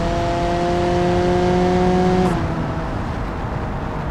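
A car engine in BeamNG.drive running with nitrous boost, a loud steady drone with a sustained pitch that suddenly drops off partway through and settles into a rougher, lower rumble.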